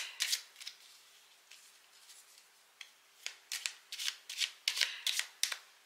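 Tarot cards shuffled by hand for a reading, a few soft riffles at first, then a quick close run of crisp, papery shuffling bursts growing denser toward the end, with no talking.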